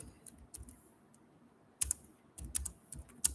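Keys clack on a computer keyboard in short, uneven bursts of a few quick strokes each, with brief quiet gaps between them, close and clear with no voices.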